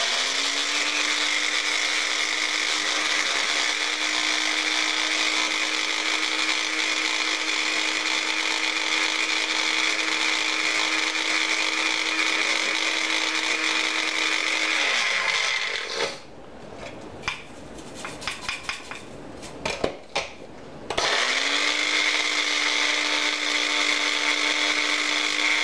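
A grinder pulverizes dried kale into powder with a loud, steady high-pitched whine, then briefly stops amid rattling and tapping before spinning back up to a constant drone.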